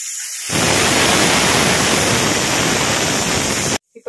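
Chopped vegetables sizzling loudly in a hot pan, a steady broadband hiss starting after a brief quiet moment and running evenly for about three seconds before cutting off abruptly.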